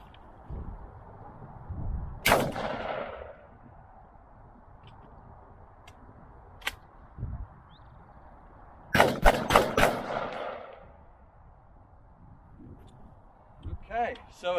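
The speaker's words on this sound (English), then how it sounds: "Once I kind of pulled the bolt back and let it hit again, 4 went off without a hitch." A Landor Arms LND117 AR12 semi-automatic shotgun fires shells, with a single sharp blast, then a quick string of four shots in a row, followed by a faint later report. Someone talks between the shots.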